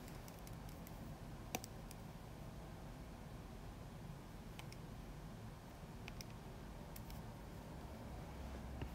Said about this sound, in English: I'll type that into the calculator.